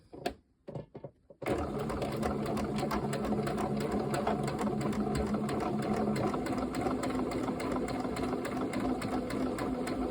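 A sewing machine stitches folded fabric for a gnome, a steady fast whirring run that starts after a few short clicks and taps and continues unbroken at close range.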